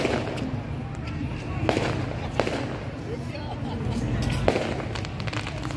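Fireworks bursting over a crowded town square on New Year's Eve in Đắk Mil, Vietnam, a few sharp distant pops and crackles over a constant roar of crowd noise and chatter.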